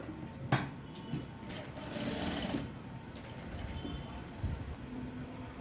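A sewing machine stitches a blouse lining, its motor whirring steadily in close, loud bursts with short pauses between runs, and no talking over it.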